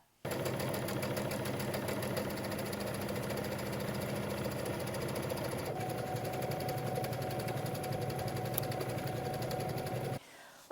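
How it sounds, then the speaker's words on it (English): A sewing machine runs steadily for about ten seconds, stitching sleeve ease rows with an even, continuous motor whir and rapid needle chatter, then stops abruptly. "So let's head to the sewing machine and do that."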